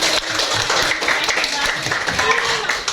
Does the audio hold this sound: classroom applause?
yes